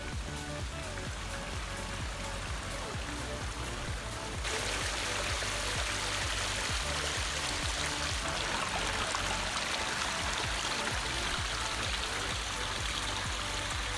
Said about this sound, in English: We have found a miniature waterfall. Looks like it's man-made